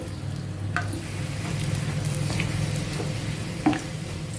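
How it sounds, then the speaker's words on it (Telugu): Puris deep-frying in hot oil in a pan, a steady close crackling sizzle with a few small pops and splashes, no voices. "ఈ పూరి వేసేసుకొని ఫ్రై చేసుకుంటే మనకు బాగా పొంగుతాయి పూరీలు"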